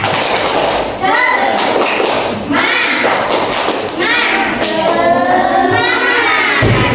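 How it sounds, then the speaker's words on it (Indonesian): A class of children performs a rhythmic group clap, the loud, steady clapping mixed with their shouting and chanting voices, filling the room continuously for several seconds. "Tepuk semangat."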